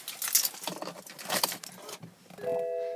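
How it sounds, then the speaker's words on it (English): Keys jangle close by for about two seconds while a car's ignition is turned, followed by a steady electronic chime tone from the dashboard. "looking at the dash whilst I start the vehicle"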